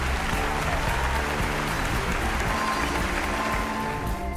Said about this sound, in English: Please give them a one more round of applause.